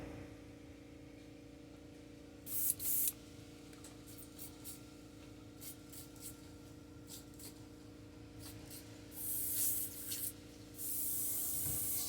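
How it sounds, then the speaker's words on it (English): An airbrush being cleaned out after custom painting a fishing popper, letting off short hissing bursts of spray with a longer hiss near the end over a low background hum. "We'll clean out the airbrush and we'll be right back."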